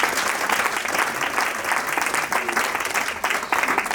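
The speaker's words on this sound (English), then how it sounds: "Please give a clap for her." A conference audience applauds a visiting judge, a steady, full round of clapping from a sizable crowd that keeps going throughout with a few small swells.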